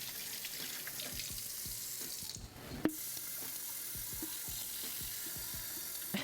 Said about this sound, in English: So we have our pitcher here, a little bit more cold water.